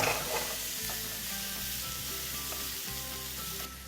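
Seedless fresh tomatoes sizzle steadily in a sautéed base in a frying pan for tomato egg fried rice, with a few soft stirring scrapes over a continuous, close, fairly loud frying hiss.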